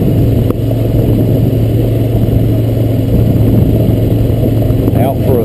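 Honda Recon ES ATV engine droning steadily and loud while being ridden, a constant close motor hum with wind rumble throughout and a brief knock near the start.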